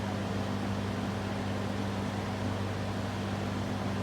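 A LAU Niteair 20-inch window fan running on high speed, giving a steady broadband whoosh of moving air with a low motor hum, continuous and fairly quiet with no talking.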